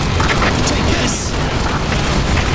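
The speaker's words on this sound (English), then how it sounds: "150 millimeter cannon fire." Heavy 150 mm cannon fire explodes in rapid succession in the EDF5 video game, a dense, loud, continuous rumble of booming blasts with no gaps.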